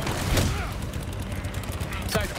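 A couple of sharp gunshots ring out in Resident Evil 4 Remake amid continuous game noise and mechanical clatter.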